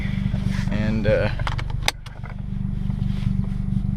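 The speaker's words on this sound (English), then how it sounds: "it seems like the car is idling a bit smoother" A Mazdaspeed3 with a newly installed oil restriction bolt idles with a steady, low, even rumble close by. Someone talks over it and there is a brief clunk partway through.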